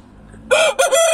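A black rooster on a poultry farm crows loudly and close by, a single sharp cock-a-doodle-doo broken by a brief dip midway.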